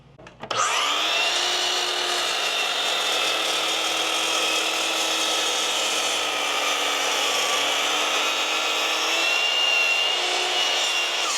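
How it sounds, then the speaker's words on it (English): A compound miter saw spins up sharply and then cuts wood in a loud, steady, sustained whine that holds for several seconds with no talking. "I've got my compound miter saw on the other side of the shop, but I'll go ahead and do that cut there"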